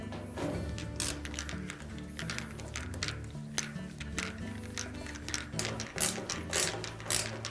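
Ratchet driving screws into the siphon break connector kit on a Whirlpool washing machine: rapid, close clicking in repeated runs with brief pauses, steady throughout.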